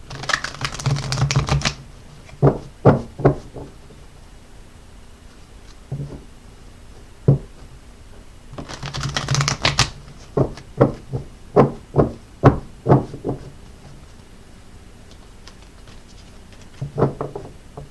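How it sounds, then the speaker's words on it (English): Bursts of crisp riffling and flapping of stacked tarot cards, alternating with quick taps and soft slaps as they are squared and gathered. "Let me shuffle them up real quick."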